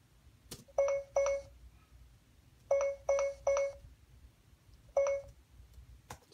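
Several short censor beeps from the GoldWave audio editor sound in clusters of two and three against a quiet, faintly noisy background, each tone clean and evenly pitched.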